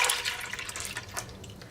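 Milk pours steadily into a bowl, a continuous splashing liquid rush that stays close and even for the short stretch with no talk.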